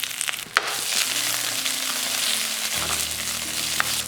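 Onions tipped into hot oil already holding mustard seeds, dried chillies and curry leaves for a Jaffna-style tapioca curry, a loud steady frying hiss with a brief clatter near the start.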